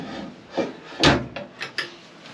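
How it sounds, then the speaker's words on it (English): A small wooden drawer in the enclosed cabin of an Offshore Boats NZ 750HT slides open and shut, a few short rubbing and knocking sounds close by in a quiet space. "Another little drawer here as well."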